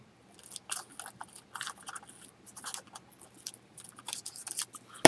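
Scissors snip through a paper doily, cutting it in half: a run of short, quiet crisp snips and rustles in an otherwise hushed room, ending in a brief louder knock.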